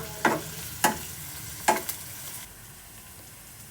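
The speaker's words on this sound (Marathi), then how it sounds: "पॅनमध्ये तेल घातलं, जिरे टाकले, कांदा टाकून घेऊ." Onion, cumin and chili paste fry in oil in a pan for a wheat bran vegetable dish. Three sharp stirring scrapes ride over a soft, steady sizzle, close and then quieting.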